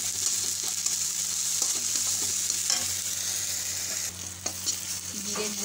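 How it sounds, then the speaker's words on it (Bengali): A ground poppy seed and sesame spice paste fries steadily in a pan, a constant sizzle with occasional scrapes and stirs of a spoon, with a low hum underneath. "এবার পোস্ত আর তিল বাটাটা দিয়ে দিলাম, দিয়ে মশলাটা ভালো করে কষিয়ে নিচ্ছি।"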